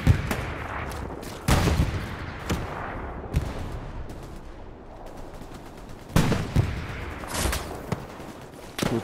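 Gunfire in Hell Let Loose, sharp single rifle shots and short bursts cracking at irregular intervals, some close and loud, others more distant, over a low battlefield rumble.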